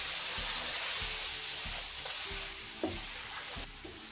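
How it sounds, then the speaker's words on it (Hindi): Chicken being fried and stirred in a pan for chicken pulao: a constant close sizzle overlaid with repeated rhythmic scraping strokes of a spoon, about one every half second, and no talking. "चिकन को अच्छी तरह भूनेंगे"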